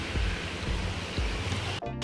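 A golden retriever urinating outdoors near a stream, a steady hissing trickle of water running continuously close by before a brief dip near the end.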